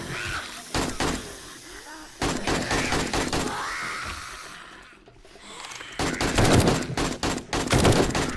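Rapid bursts of gunfire crack through a zombie-horde survival video game, coming in clustered volleys separated by short lulls, loud and close throughout.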